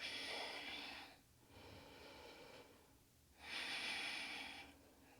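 Deep, slow breaths during a power yoga plank hold, heard close and alone as a long noisy exhale, a softer inhale, then another strong exhale.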